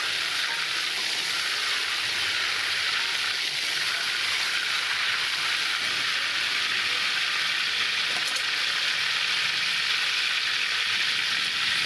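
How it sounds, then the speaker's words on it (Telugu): Tomatoes fry in a pan for tomato pickle at a Rajahmundry street food stall, giving a steady, close, loud sizzle that runs unbroken throughout. "టమాటా పచ్చడికి టమాటా కాయలు ఫ్రై చేయాలి"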